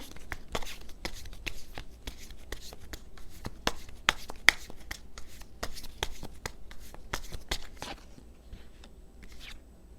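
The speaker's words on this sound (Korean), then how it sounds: "제가 조언 카드 좀 뽑아볼게요" Tarot cards being shuffled and drawn close by, a fast rhythmic stream of crisp riffling slaps and flicks that slows to a few soft card sounds at the end.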